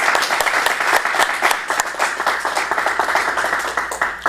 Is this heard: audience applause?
yes